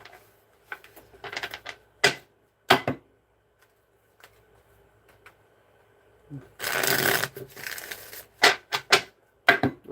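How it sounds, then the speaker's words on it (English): A deck of cards is shuffled in a quiet room, with short bursts of riffling clicks and one longer rolling riffle, and brief pauses in between. "Let's give it two more shuffles."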